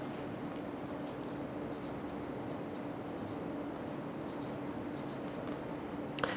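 Steady scratching of a pen or marker writing on a board or page, continuous and fairly close for several seconds with a faint background hum, no talking.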